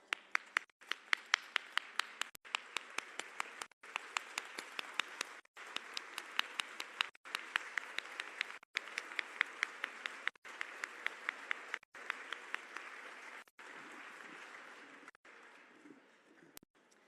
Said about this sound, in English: I'd like us to stand up and give them a warm hand of applause.